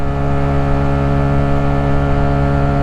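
A loud, steady Voge R125 125cc motorcycle engine drones with a strong harmonic hum, holding an even pitch as the bike rides along, no talking.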